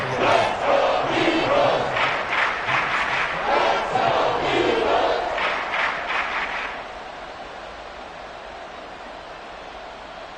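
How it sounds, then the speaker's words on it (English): A football stadium crowd roars loud and sustained with shouting during a game, the roar holding steady and then dropping off sharply to a quieter hum. "This crowd turning up the decibel level."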